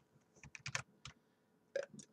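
Quick, irregular keystrokes on a computer keyboard during a Game Dev Tycoon session: a flurry of close clicks, a pause, then a few more taps, quiet and with no talk.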